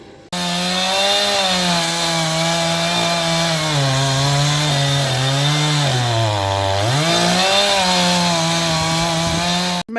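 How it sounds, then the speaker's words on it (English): A chainsaw runs steadily at close range for about ten seconds, its loud engine whine holding a constant pitch with a brief dip in revs midway and no talk. "What make of chainsaw would you recommend?"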